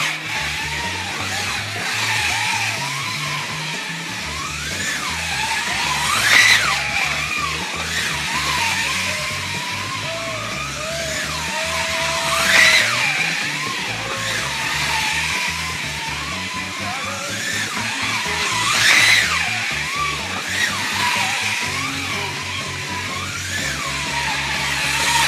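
A custom 1:32 scale AMC AMX slot car whirs steadily around a track, its electric motor whine rising and falling in repeating laps, swelling louder roughly every six seconds as it passes nearby.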